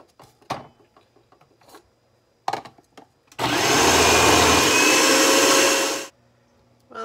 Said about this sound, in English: I'm going to be using this food processor head. It kind of cuts little strips up